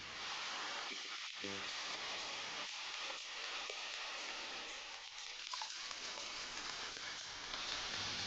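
Food sizzles in a wok being flipped, a constant hissing fry with faint clattering and muffled voices beneath it.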